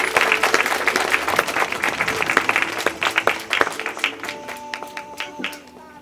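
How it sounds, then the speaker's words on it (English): Wedding guests applauding a couple at a wedding reception, a lively burst of many hands clapping that thins into scattered individual claps as it fades, with faint tonal music or ringing entering near the end. "Give them a round of applause,"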